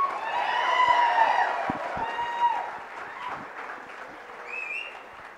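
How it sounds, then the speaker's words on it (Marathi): Audience at a project competition prize distribution clapping for a winner, a dense wash of applause that swells then gradually thins, with faint voices and a few whoops mixed in. "जोरदार टाळ्या राहुलसाठी एकदा"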